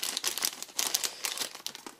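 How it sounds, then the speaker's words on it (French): Plastic bag crinkling and crumpling as it is pulled off a small GoPro Session accessory, a close, continuous rustle of irregular crackles lasting about two seconds, with no talking. "Je vais enlever le sac plastique."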